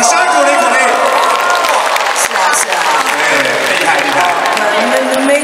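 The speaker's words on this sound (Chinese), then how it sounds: "掌声鼓励鼓励" Audience applause at a concert in Miaoli, a dense wash of clapping from a large crowd that fills the stretch, with some cheering and a voice speaking over it.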